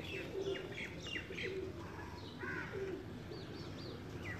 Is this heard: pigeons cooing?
yes